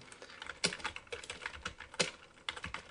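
Computer keyboard being typed on to name a new folder, a quick uneven run of close, crisp key clicks with no talking.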